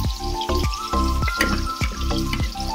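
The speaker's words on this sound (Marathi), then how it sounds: "वरण फोडणीला दिलं" Dal being tempered in a freshly washed kadhai, with a steady sizzle broken by several sharp bursts of crackling spatter, close and fairly loud, and no voices.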